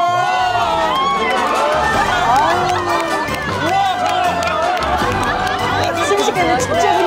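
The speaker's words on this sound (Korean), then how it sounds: "덩달아 환호성 소리도" Loud, excited cheering and shouting from a group of people as fish are hauled up in nets off the Buan County coast, with overlapping voices and chatter throughout.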